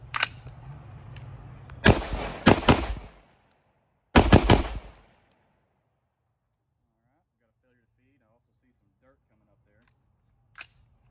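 A rifle firing bursts from an Amend2 magazine with dirt packed inside, several loud, sharp shots in quick clusters, then a stoppage and near silence with a faint click.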